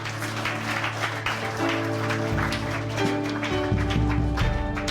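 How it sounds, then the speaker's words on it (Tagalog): Congregation applauding during a Sunday church sermon, a steady dense wash of clapping with a low musical tone underneath, no talk over it. "Malakas na palakpak sa Lord!"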